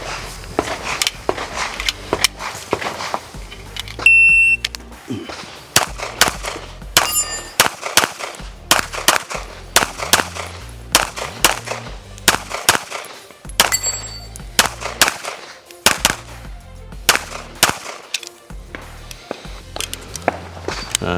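Rapid pistol shots from a Gibson Custom handgun at target practice, sharp, loud cracks fired in quick strings, separated by brief pauses between bursts.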